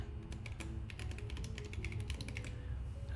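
Fingers type on a Planck 40% mechanical keyboard in a fast, uneven run of crisp, close key clacks that trail off near the end, with no speech.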